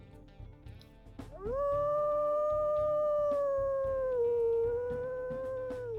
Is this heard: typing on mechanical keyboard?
no